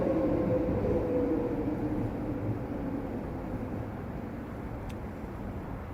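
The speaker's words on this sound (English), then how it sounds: "Every minute we're getting a train." A train rolling past on the rails, a steady low rumble with a faint droning tone, fairly distant and fading slowly across the stretch, no voices.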